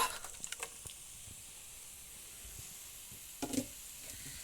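Onions frying in a pan, a soft continuous sizzle and hiss with a few faint stirring knocks, close but quiet, no talking.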